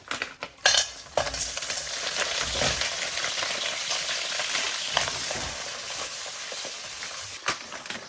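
Seafood sizzles and crackles loudly in overheated oil throughout, with occasional clinks of a utensil against the pan.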